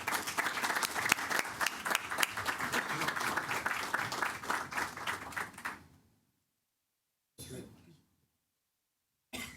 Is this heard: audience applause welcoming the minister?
yes